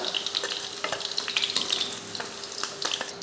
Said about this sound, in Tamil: இப்போ இதில் எண்ணெயில் வறுத்து எடுத்துக்கலாம்